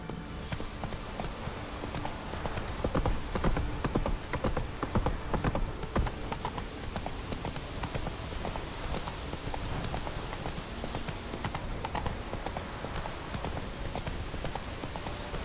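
Hooves of the horse in The Witcher 3: Wild Hunt clop in a steady, rapid trotting rhythm throughout, close and continuous over outdoor game ambience.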